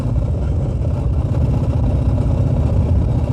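A Royal Enfield Meteor 350 single-cylinder motorcycle cruises in fifth gear at about 40 km/h, its engine a steady low throbbing drone mixed with road and wind rumble, continuous and fairly loud with no talk.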